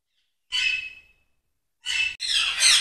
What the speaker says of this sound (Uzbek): Bu yoqda katta qushlar asosan jako, kakado, shunaqa qushlar boqilgan.